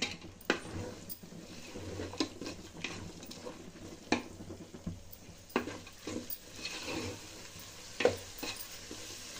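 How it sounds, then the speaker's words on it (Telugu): Masala spices including garam masala and pepper powder are stirred in a pot for a veg dal biryani, with repeated scraping spoon strokes and light clanks over a soft frying sizzle. "ఈ మసాలాలన్నీ బాగా కలుపుకోవాలండి"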